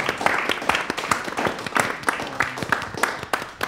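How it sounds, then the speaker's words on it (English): An audience at a theater talk-back for a classic Arab play gives a short round of applause, with uneven clapping that is fairly close and moderately loud. "another round of applause for that"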